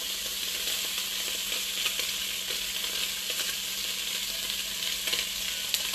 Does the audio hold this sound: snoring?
no